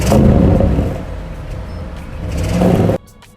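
A 2021 Audi RS6 pulls away for a test drive, its engine rising in a loud close roar that swells again before cutting off abruptly near the end, no speech.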